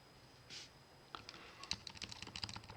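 Computer keys clicked while entering symbols on a calculator or keyboard: a quiet run of light, irregular taps that starts after a brief pause, close and fairly faint.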